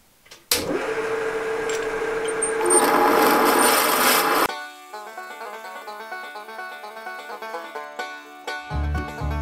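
A drill with a 15.75 mm bit grinds loudly through material for about four seconds, then stops abruptly, leaving a quieter tonal ringing with soft taps afterward.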